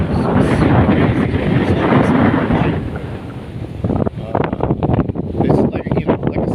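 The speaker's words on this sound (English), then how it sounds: "the wind. Man, the wind is just crazy." Strong wind buffets the microphone on a long open beach, giving a loud, steady roar at first, then gusty rumbling bursts, with someone talking over part of it.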